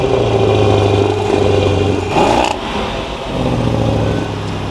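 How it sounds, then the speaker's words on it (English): A supercharged V8 in a damaged Range Rover SVR roars loudly close by, holding a strong engine note with a brief rising rev burst midway before settling back. "Supercharged V8."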